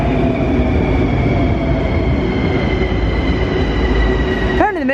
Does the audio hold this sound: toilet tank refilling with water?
no